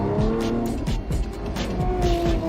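A Lamborghini Aventador Ultimae with its V12 braking hard on a narrow country road, tires squealing in repeated sliding chirps over a loud, continuous engine roar.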